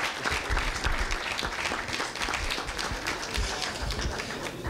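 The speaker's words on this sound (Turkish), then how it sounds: "arkadaşım Ayhan'ı lütfen alkışlayın" Applause from the audience at a Miss Civilization beauty pageant, a steady, even rush of many hands clapping throughout, moderately loud and unbroken.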